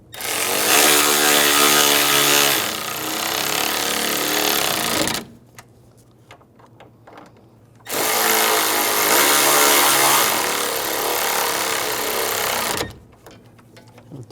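A power tool tightens the AC condenser bolts on a 2013-2016 Dodge Dart 2.4L: two loud, close buzzing bursts of about five seconds each, separated by a quieter pause.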